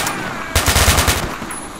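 AK rifle gunfire in the video game STALKER: Shadow of Chernobyl, a loud, close burst of about eight rapid automatic shots over roughly half a second, fading into a brief echoing tail.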